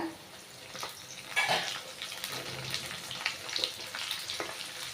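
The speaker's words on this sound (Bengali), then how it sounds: "তো বন্ধুরা আমি তেলের ভিতরে শুটকিটা দিয়ে দিব" Dried fish hitting hot oil with onions that are already browning in the pan, a soft steady sizzle with scattered crackles and a few spoon-against-pan clinks, fairly quiet overall.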